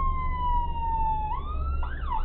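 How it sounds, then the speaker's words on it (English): A police car siren wails from a vehicle at a South Coast cop car event, a sliding tone that drops and then bends upward, over a low engine rumble. "And the sirens, they're not loud inside."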